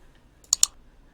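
A computer mouse clicked on a desktop running Google Chrome: two quick, sharp, close clicks in a brief pair against near silence.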